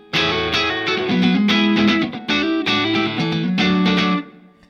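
Electric guitar through a Strymon Iridium on its Marshall amp setting with reverb added, a loud distorted phrase of strummed chords in several bursts, ringing out with a short reverb tail at the end.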